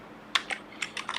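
A few quick computer keyboard keystrokes for a copy shortcut while editing CSS layout code, crisp close clicks in a short irregular burst, alone without speech.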